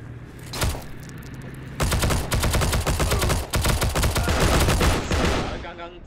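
Rapid automatic gunfire from the video game Heroes & Generals, with a short burst early, then sustained loud fast-repeating shots from about two seconds on, briefly broken, then continuing before trailing off.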